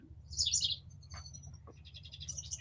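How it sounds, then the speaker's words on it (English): Small birds chirping outdoors, a few bright high tweets in short bursts over a low steady hum, moderately close and without talk. "Those fucking birds!"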